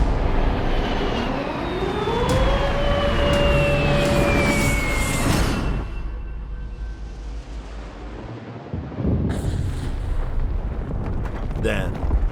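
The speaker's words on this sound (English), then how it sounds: "Then the whine of engines." A rising, whining drone of bomber aircraft engines over Chongqing sweeps upward and holds, with a siren-like tone and heavy rumbling beneath, ending in a burst of louder noise.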